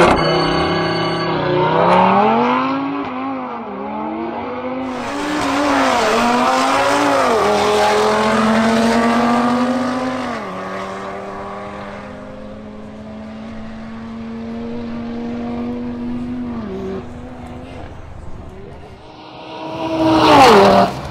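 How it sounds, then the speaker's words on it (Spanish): An Audi RS3 and a BMW M240 launch in a quarter-mile drag race at Milla Barranquilla 2022. Loud engines rev hard and climb in pitch, dropping briefly at each gear change, then fade as the cars pull away, with a final burst of noise near the end. "Iniciamos con un duelo entre el Audi RS3 de Pedro Mogollón versus el BMW M240 de Camilo Forero."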